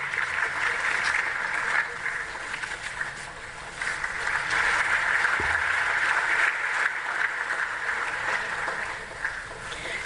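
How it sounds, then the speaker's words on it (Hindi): Sustained audience applause at an award ceremony during the INDOSAN sanitation conference inauguration, a steady broad wash of clapping lasting throughout with no speech over it. "जोरदार तालियों से हम इनका अभिनंदन करेंगे"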